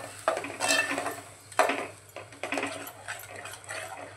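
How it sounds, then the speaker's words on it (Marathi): A spoon stirs and scrapes masala being sautéed in oil in a pan for sprouted moth bean misal, with close, irregular metallic clinks and scraping strokes over a faint sizzle, and nobody speaking. "आणि छान तेल सुटेपर्यंत परतवून घेऊया। एक 2-3 मिनिटं आपल्याला परतवायचं आहे"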